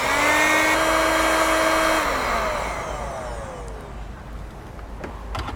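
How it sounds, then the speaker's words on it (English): A heat gun blows on trailer wiring connectors while a Curt powered tail light converter is mounted: a steady whirring, whining fan tone that winds down after about two seconds and fades to a softer hiss, with a faint click at the end. "Then I'll use a heat gun."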